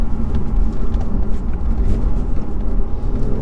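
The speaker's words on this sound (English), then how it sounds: "Oh, it's lovely, that downshift." Lotus Evora Sports Racer with naturally aspirated engine and IPS automatic gearbox, a steady loud engine rumble with a low drone during a downshift, continuous throughout, no voices.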